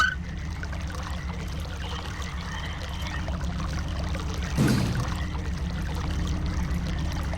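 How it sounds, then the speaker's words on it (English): Water running steadily from a hose in the game Myst, a continuous low rushing flow with a brief brighter splash partway through. "So we've got the hose turned on so we can follow the sound of the water."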